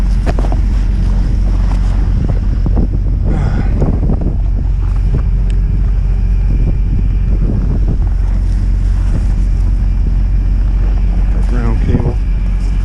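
Strong wind blowing across the microphone at an oilfield in -20 degree cold: constant heavy low rumble and buffeting gusts, loud and close, with a few brief knocks and scrapes.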